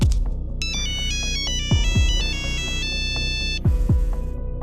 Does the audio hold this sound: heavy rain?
no